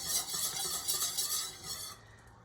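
A whisk scrapes and swishes briskly through caramel sauce in a pan, with a soft, continuous stirring rhythm that fades out at the end.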